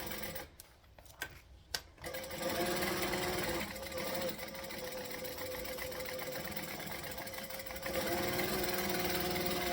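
A sewing machine runs a long continuous seam on a bag after a few short start-stop taps, stitching forward and reversing to back stitch, loud and close with a steady whirring drone.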